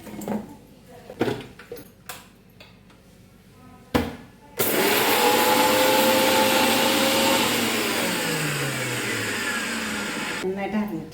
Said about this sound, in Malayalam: ഇഞ്ചി പച്ചമുളക് കറിവേപ്പില ഉപ്പ് നമുക്കെന്ന് മിക്സിയിൽ അടിക്കാം